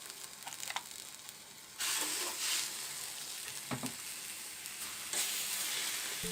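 A loud, steady sizzle of chicken searing in a hot frying pan, with occasional sharper crackles and pops, close up and without talking.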